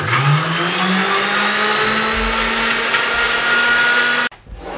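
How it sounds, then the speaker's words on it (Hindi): An electric grinder whirs loudly and steadily while blending garlic shawarma sauce, its pitch rising at the start, then cutting off abruptly near the end, leaving a brief quiet tail. "इसको अब हमने ऊपर से कवर लगा दें और इसका ग्राइंड कर लें।"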